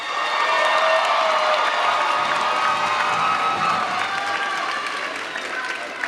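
At a 2023 Mound Street Academy graduation ceremony, a room of guests gives sustained applause with cheering and whoops mixed in, a thick, continuous roar of clapping that slowly tapers.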